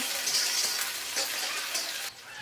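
Carrots and capsicum stir-frying for street-side veg noodles, a steady close hiss and sizzle from the pan with faint scraping of stirring, easing off near the end.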